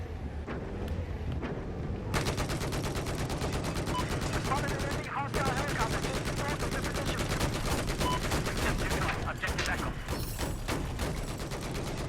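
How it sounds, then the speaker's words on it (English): Dense, rapid automatic gunfire in Battlefield 4 with sustained machine-gun bursts and scattered shots, loud and close, running almost continuously over several seconds. "Who is shooting us?"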